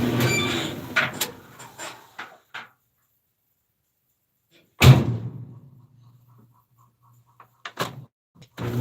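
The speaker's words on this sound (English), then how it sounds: "opening up the door." A clothes dryer door swung open with a sharp latch clunk and thud midway, preceded by a few light clicks and rattles, with quieter knocks near the end in an otherwise quiet room.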